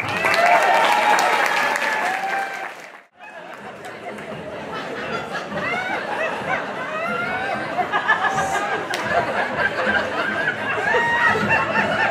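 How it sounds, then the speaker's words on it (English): Loud audience applause for a haka performed by a group of farmers from Newbawn, a brief dip then sustained clapping mixed with chatter and chuckling from the crowd. "Would you give a good round of applause for the Newbawn Haka?"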